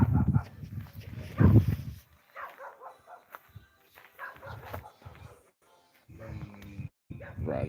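A dog at a campsite gives short barks and soft whimpers, mixed in among close conversational voices and morning movement.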